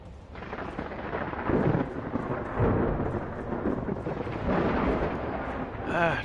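A thunderstorm rumbles in a video game, with repeated deep rolls of thunder over a steady wash of rain, moderately loud and continuous throughout.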